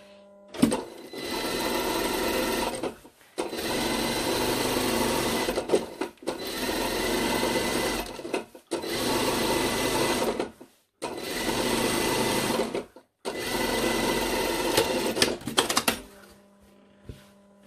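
Sewing machine topstitching a lined cranberry jacket, running in five or six steady bursts of a few seconds each, separated by short pauses, close and fairly loud with no talking.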